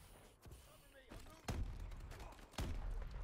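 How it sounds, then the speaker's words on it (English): Grenades exploding in a first-person shooter video game: several heavy, booming blasts land at irregular intervals, with two especially loud thuds standing out over a dense, rumbling background. "just grenades going off"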